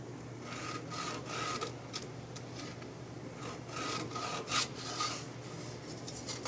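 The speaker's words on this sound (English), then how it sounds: "So I'll draw the split lines where I'll be splitting this." A marker or pencil drawn across a chunk of wood being laid out for splitting into boxes gives a steady dry rubbing and scratching, close and continuous, with a few brief louder strokes.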